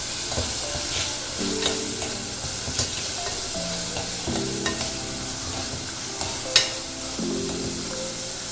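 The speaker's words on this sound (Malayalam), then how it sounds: "ഇനി നന്നായിട്ട് വഴറ്റാം" Green chilies and chopped ginger sautéing in a pan for a Kerala fish curry, with a constant sizzle broken by repeated scraping strokes of a spoon against the pan.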